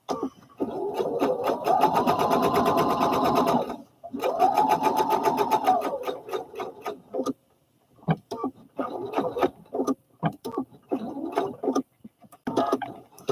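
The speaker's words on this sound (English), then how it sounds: "I'm going to go ahead and sew on this" A home sewing machine stitching fabric, running with a low bobbin, whirs steadily in two long bursts with rapid, regular needle ticks, then stops and restarts in short, choppy runs with pauses between.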